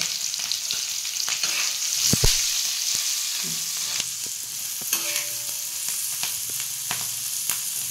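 Green chillies fry in oil in a pan for a rustic Maharashtrian side, a continuous bright sizzle with intermittent stirring clatter and scraping, heard close up with no voices.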